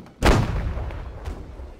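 A ship's cannon fires in the naval battle game Holdfast: Nations At War, one sharp loud boom followed by a rumbling tail that fades over a second or so, with no voices.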